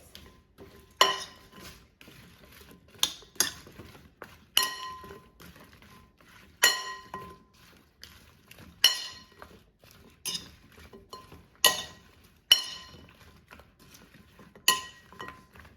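Mini peppers are tossed with oil, black pepper and garlic powder, giving a series of sharp clinks and rattles of utensils against a bowl, repeating roughly every second or two in close, fairly quiet bursts.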